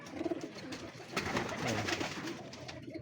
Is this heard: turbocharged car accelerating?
no